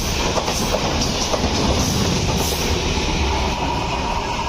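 The Visakhapatnam–Lingampalli Janmabhoomi Express rushes past a halted train at Bommaipalli railway station, a loud, continuous roar of wheels and carriages with rhythmic clatter running the whole time.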